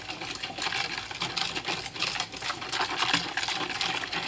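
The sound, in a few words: whisking chocolate pudding mix with milk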